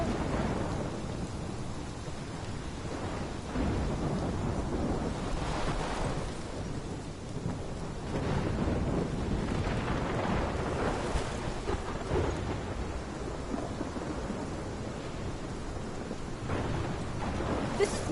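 Video-game thunderstorm on PS4 with continuous rain hiss and deep rolling thunder swelling and fading over the whole stretch, steady and fairly loud, with no voices.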